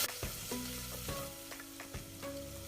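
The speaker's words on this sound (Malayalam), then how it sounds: "നമ്മുടെ ജിഞ്ചർ ഗാർലിക് പേസ്റ്റൊക്കെ നന്നായി വഴന്നിട്ടുണ്ട്." Ginger garlic paste sautéing in a pan for a traditional mutton curry, a close, steady sizzle and crackle of hot oil broken by repeated stirring knocks and scrapes at an irregular rhythm, with no voices.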